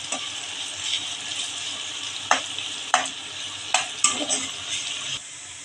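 Onions fry in hot oil for birista, an even bright sizzle broken by several sharp scraping stirs of a spoon in the pan, close by with no speech.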